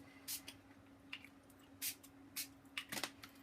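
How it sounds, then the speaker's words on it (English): Ink sprayed from a spray bottle onto paper in a series of short, sharp hissing bursts, about six of them at uneven intervals, close by over a faint steady hum. "Oh, I love spraying these inks."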